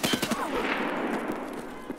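Escape From Tarkov gunfire: a quick burst of several loud close shots at the start, then a rolling echoing tail fading over two seconds.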